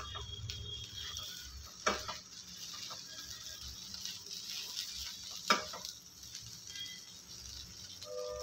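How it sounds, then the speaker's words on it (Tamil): Chapati noodles with a little coriander being stirred in a pan: a faint low sizzle with light scraping and two sharp spatula clanks against the pan. "இதோட கொஞ்சோண்டு கொத்தமல்லி சேர்த்துக்கலாம். நல்லா கலந்து விட்டுருங்க."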